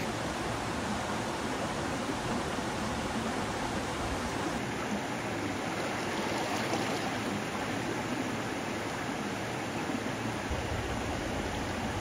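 A small, ice-cold river flows steadily nearby, its broadband rushing wash constant and unbroken throughout with no voices over it.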